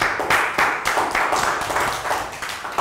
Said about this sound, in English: Rounds of applause for me.